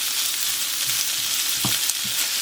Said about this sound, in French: je vais y rajouter mes pâtes. Et je vais mélanger ça.